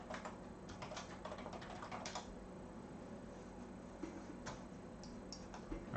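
Fingers type on a computer keyboard to log into a course website, a quiet, close run of irregular key clicks with short bursts and brief pauses.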